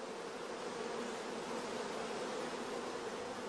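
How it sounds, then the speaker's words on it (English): Dense, continuous buzzing of orphaned, queenless honeybees in a starter colony, a loud, steady hum of many bees close up, with no voices. "we can hear the loud buzzing of the orphan bees"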